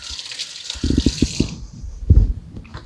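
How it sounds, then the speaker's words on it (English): A finger is rinsed under a running tap: a steady hiss of water comes first, then gives way to splashing and rattling as the hand moves in the stream. "Let me rinse my finger off."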